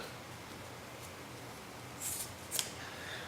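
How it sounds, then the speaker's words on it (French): Scissors snip through braided rope during splicing, two short, crisp cuts close by near the end, following a quiet, steady room hiss with no talking. "on va prendre nos ciseaux ici. Puis on va prendre le temps là, de bien couper la corde le plus proche possible"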